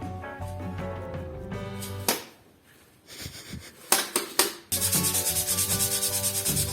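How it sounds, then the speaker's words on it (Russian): Sandpaper rubbing across a handmade wooden box in bursts of close, raspy strokes, with short pauses between passes and a fast, rhythmic stretch of scrubbing at the end. "Шлифуем."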